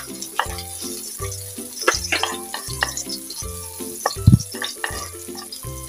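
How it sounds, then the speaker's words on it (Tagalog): Garlic sautéing in cooking oil in a wok for pancit miki, with steady sizzling and frying crackle punctuated by stirring scrapes and utensil clinks close by, no talking. "Yan, gigisa po muna natin yung ating bawang hanggat mag golden brown."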